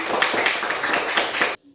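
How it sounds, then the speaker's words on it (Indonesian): A classroom audience claps for a student's presentation, a dense, steady patter of many hands close by for about a second and a half before it abruptly stops. "Bagus. Tepuk tangan."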